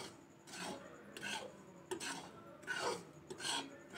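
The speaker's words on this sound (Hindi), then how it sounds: "मैं बिना घी डाले अब घी सूजी को भूनूंगी" Semolina is dry-roasted in a pan without ghee, heard as repeated scraping and rasping strokes of a utensil against the pan, close and fairly quiet, in an irregular stirring rhythm.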